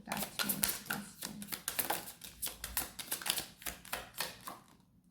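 Tarot cards are handled and shuffled in a dense run of quick, crisp papery clicks and flicks that continue steadily at close range for the whole stretch, with no voice over them.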